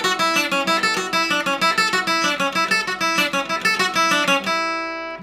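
A fast ornament in A rings out on requinto guitar as a dense, rapid run of bright plucked notes at close range, then ends on a ringing final chord that fades away.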